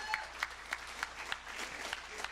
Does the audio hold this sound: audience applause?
yes